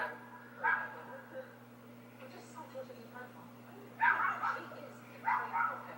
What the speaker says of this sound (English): This dog barks all the damn time.